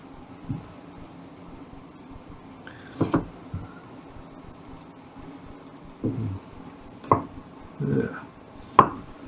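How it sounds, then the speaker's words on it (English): Knife chops garlic on a cutting board for a vegetable curry, a handful of irregular close taps and thuds separated by quiet pauses. "I quite enjoyed chopping garlic like that."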